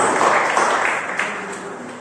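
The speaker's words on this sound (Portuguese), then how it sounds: "Uma salva de palmas para o Senhor" A church congregation applauding together during a live worship service, a dense, steady wash of clapping that stays fairly loud and eases slightly toward the end, with no talking over it.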